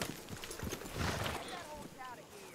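Rapid clip-clop of horse hooves at a trot in Red Dead Redemption 2, moderately close, with game-like ambient tones and a few bright chirps layered over it.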